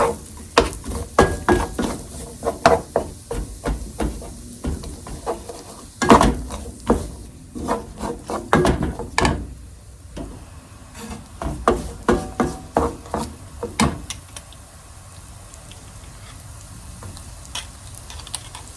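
Mushrooms sizzling steadily in butter in a hot pan with repeated sharp clicks and scrapes of a utensil stirring, close by, with no voices.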